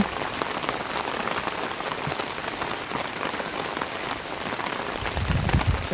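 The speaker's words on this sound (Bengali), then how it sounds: "ছাতি যেভাবে বৃষ্টি পড়তেছে" Heavy rain pours steadily, a dense, continuous hiss of drops striking surfaces nearby.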